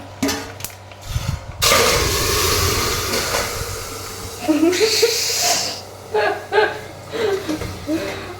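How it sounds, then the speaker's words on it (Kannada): A loud, sustained sizzle and crackle of hot oil bursts up suddenly as spices are tempered for basale soppu sambar, continuing with sputtering pops while voices talk intermittently. "ಇದು ಒಗ್ಗರಣೆ."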